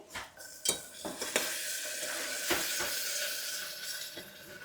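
Ground tomatoes hit hot oil in a pan with a steady loud sizzle, punctuated by several clanks and scrapes of a spoon stirring against the metal.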